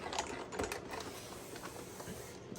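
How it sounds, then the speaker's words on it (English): A cut and emboss machine runs a paper rainbow through with quick mechanical clicks and a soft whirring rattle, faint and close. "we're going to run it through our cut and emboss machine."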